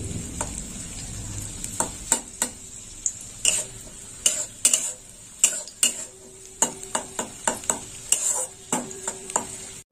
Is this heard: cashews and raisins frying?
yes